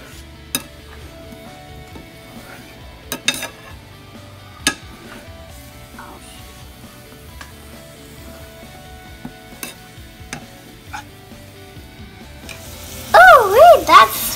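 Shrimp curry sizzles faintly in oil while a utensil stirs it, with sharp clinks and scrapes against the pan at irregular intervals and a louder burst of scraping near the end.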